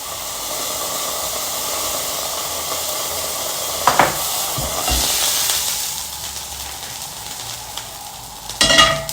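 A lion's mane mushroom steak sears in a pan with steady, loud sizzling and hissing, pressed under a second pan, with a few sharp clanks near the end and no talking.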